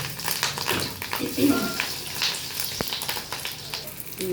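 Fish roe fritters frying in hot oil produce a steady crackling sizzle, with a voice speaking over it at times.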